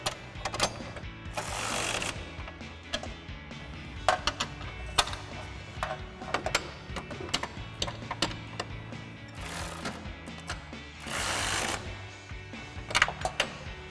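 Ratchet with a 10 mm socket tightening bracket bolts while installing side step bars on a Jeep Wrangler JL: quick bursts of rapid clicking repeat close by, separated by short pauses and clanks of metal.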